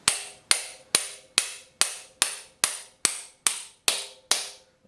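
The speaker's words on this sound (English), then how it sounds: "So I usually use a hammer that's a 16-ounce or better ball peen hammer, and hold the tool in place like this." A ball peen hammer of 16 ounces or more taps a dipstick tool into an AMC V8 engine, eleven evenly spaced sharp metallic strikes, each ringing briefly before the next, close and clear with no talk.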